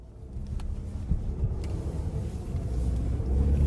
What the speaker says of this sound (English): let's take this 2025 Chevy Traverse High Country out on the road for a test drive